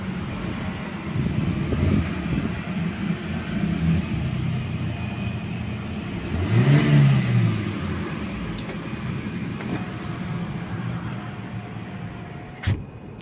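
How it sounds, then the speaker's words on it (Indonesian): A Hyundai Stargazer Prime engine idles with a steady low hum, swells briefly into a rev, settles back, and ends with a short click, all heard alone. "Nah ini dia suara mesinnya."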